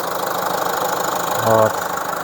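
A Renault Master 2.3 van engine idles steadily up close, a continuous low rumble with a brief louder tonal burst partway through; no speech is heard.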